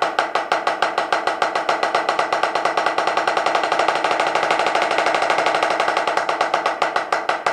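Drumsticks striking a practice surface in fast, even single strokes without a drum kit, a steady stream of crisp, evenly spaced taps at consistent volume, close and alone.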